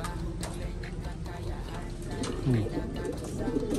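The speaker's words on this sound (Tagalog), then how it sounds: "Sa akin yata lumalapit mga kalapatid, hindi doon sa ibon." Soft cooing of pigeons close by, low repeated warbling calls mixed with light ticking and shuffling, while people talk nearby.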